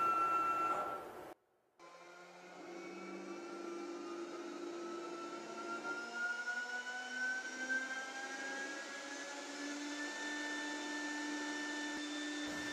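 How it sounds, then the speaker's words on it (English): A CNC machine cuts with a 1/4 inch end mill on a hollow newel part. After a short pause it runs as a steady whining drone that shifts slowly in pitch throughout, with no voices. "The machine will automatically plunge down and touch off the Smart Tool to set the Z-axis and then start"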